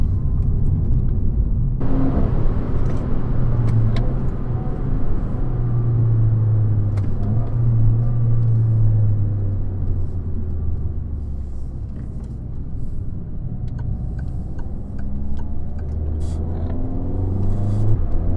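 A Peugeot 208 GTI fitted with an Inoxcar stainless exhaust rumbles steadily nearby as it drives, engine note dipping and rising subtly through a heel-toe downshift with a brief blip, mostly a continuous low drone.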